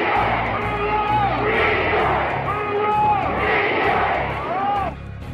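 A big crowd at a political rally cheers and shouts in sustained waves, loud and dense, with a voice calling out over it.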